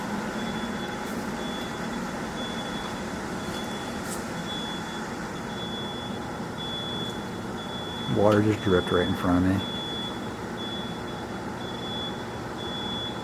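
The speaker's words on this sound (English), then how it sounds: "It's an alarm." An alarm in an abandoned, water-damaged mall gives a thin, steady high tone that runs faintly throughout, beneath a person talking and a brief burst of louder noise.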